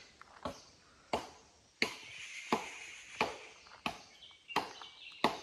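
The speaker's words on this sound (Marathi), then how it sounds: "तिकडे निलेशला एक सुका फाटा भेटलाय, तो फोडतोय तो." Repeated sharp cracks and thuds, about one each second, as a dry branch is struck and split close by, with no talking.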